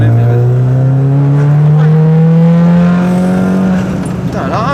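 Stage 2 tuned car accelerating hard, a loud, steady engine note climbing continuously in pitch as it pulls, close and dominant, with a shift in tone near the end.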